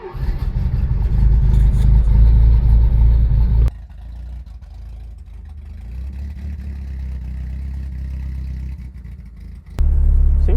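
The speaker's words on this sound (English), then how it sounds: "let's do a little test drive" A Citroen DS rumbles along on a test drive, its engine loud and close, easing to a lower quieter drone midway before swelling again at the end.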